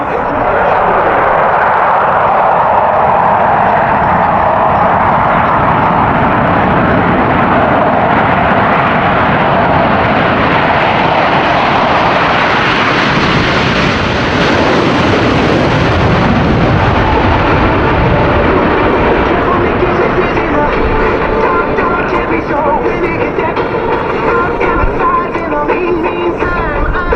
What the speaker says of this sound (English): Burners ready now, and the Blue Angel diamond is rolling.